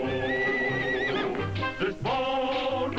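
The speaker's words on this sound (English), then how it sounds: "comes a horse not known as Zorro" A horse neighs in the Disney Zorro television intro, a loud, wavering whinny over orchestral music, followed by a second shorter whinny after a brief dip.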